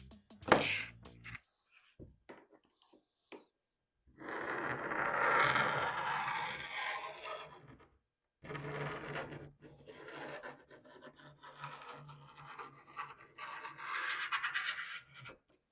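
A knife is dragged hard through a laminate countertop, giving long rasping, grinding scrapes in sustained bursts with brief pauses, close up and fairly loud.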